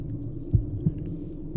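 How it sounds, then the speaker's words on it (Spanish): A heartbeat sound effect in a horror story gives three deep, close, evenly spaced thumps over a steady low hum. "Podía escuchar incluso los latidos de mi corazón cada vez más fuertes."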